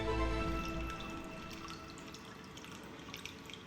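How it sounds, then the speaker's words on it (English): Saltwater solution poured into an aquarium tank, a heavy splashing gush at the start that settles into a softer trickle with scattered drips, close by and alone. "Now, I'll pour 1/3 of the solution into the tank"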